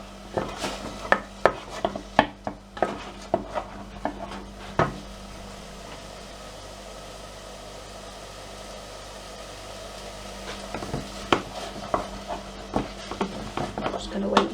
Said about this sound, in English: So we've got 65 grams of onions in the pot. I'm just going to give those a quick stir.